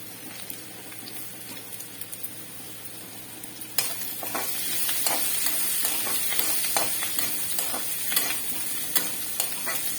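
Crushed garlic hits hot oil in a pan with onion and ponnaganti leafy greens, a soft sizzle that jumps louder partway through, then steady frying with scattered stirring scrapes and crackles.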